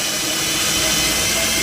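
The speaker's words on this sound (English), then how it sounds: "So slowly you drill, and the first bit goes in as a guide" A power drill boring slowly through the plastic rear bumper of a Vauxhall Opel Meriva B for parking sensors, a loud steady whine that holds evenly for under two seconds.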